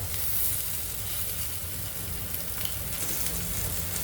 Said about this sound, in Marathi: दुसऱ्या बाजूला आपल्याला शालो फ्राय करायचे आहेत फक्त आणि फक्त मी दीडच चमचा तेल घातलेलं आहे